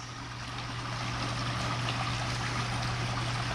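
Water runs steadily into a Jacuzzi J-355 or J-325 hot tub, a constant rushing flow with a low hum underneath, close and unbroken throughout.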